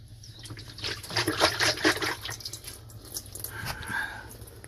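Water trickles and drips close by in uneven bursts out of a Samsung top-loader washing machine, splashing and gurgling louder in the middle before thinning to a small dribble.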